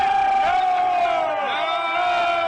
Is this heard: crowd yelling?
yes